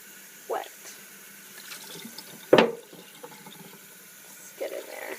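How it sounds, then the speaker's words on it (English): Cold tap water splashing onto a baseball hat over a sink, a few brief bursts of splashing and trickling with quiet gaps between them, close by, with no speech. "you're going to take some cold water and just get the hat wet."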